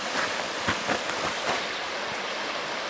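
The River Dove in the Peak District rushes steadily, a constant broadband wash of flowing water heard up close with no voices.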